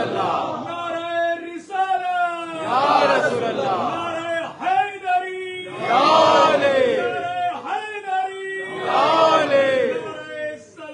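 At a Shia majlis in an azakhana, a large crowd chants religious slogans in unison, in loud, rhythmic, repeated bursts that rise and fall across the hall.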